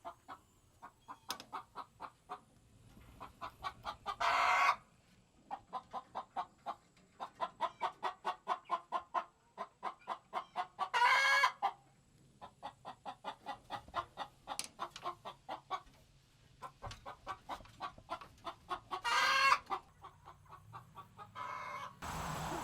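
Hens in a mobile egg coop with nesting boxes cluck in rhythmic runs of close, moderately loud calls, broken by a few louder squawks.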